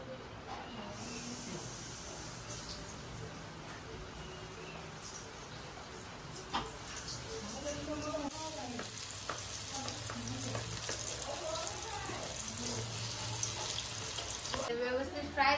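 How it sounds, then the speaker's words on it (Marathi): Vegetarian bombil, a Malvani dish, frying steadily in a pan with a continuous sizzle and occasional stirring clatter, while a voice talks intermittently over the cooking. "आता हे आपण आता फ्राय करू"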